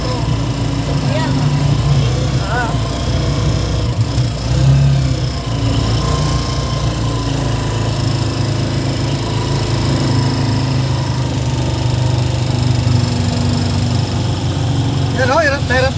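A motorcycle engine, missing its sprocket with a worn chain and plate, runs roughly and struggles as it keeps going, a steady mid-pitched drone with uneven labouring, under people talking throughout.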